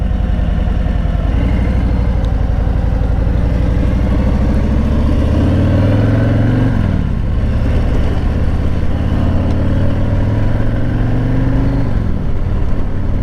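A 2021 Harley-Davidson Freewheeler trike engine hums steadily while riding, its low throb holding near and loud throughout with two rising shifts in pitch as it accelerates.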